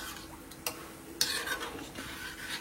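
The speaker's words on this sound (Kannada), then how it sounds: "ಸೊ ಇದನ್ನ ಹಿಂಗೆ ತಿರುಗ್ಸಕ್ಕೆ ಬಿಟ್ಬಿಟ್ಟು" Food in a pot on the stove, with dry fruits added, is stirred in a few slow scraping strokes, with two sharper knocks of utensil against metal over a quiet background.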